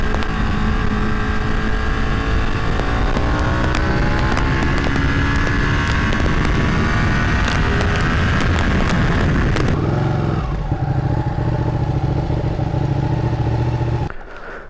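A Ducati Panigale being ridden, its engine a loud steady drone with rising and falling pitch as it accelerates and shifts, mixed with wind rush, then a lower settled tone before cutting off near the end.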